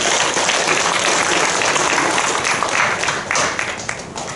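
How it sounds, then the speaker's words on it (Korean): Congregation clapping in applause inside a church hall auditorium, dense sustained clapping from many hands that thins out and fades toward the end. "우리 하나님께 감사의 박수 한번 드리시겠습니다"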